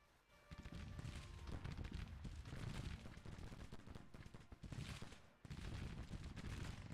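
A dense, sustained volley of massed musket fire in a Civil War strategy video game, loud overlapping cracks rolling continuously with a brief dip before resuming.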